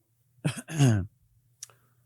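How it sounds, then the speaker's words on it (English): Two quick coughs close together, followed by a brief faint click-like sound and quiet afterward. "Usually I mute my coughs, but, sometimes they just happen."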